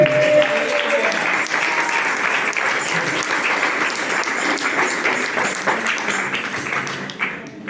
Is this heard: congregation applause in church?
yes